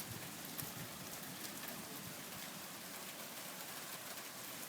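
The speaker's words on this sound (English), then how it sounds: "This hail is starting to get everywhere." Hail and heavy rain pour down during a thunderstorm, a dense, steady hiss of drops striking surfaces that stays constant throughout, with no voices.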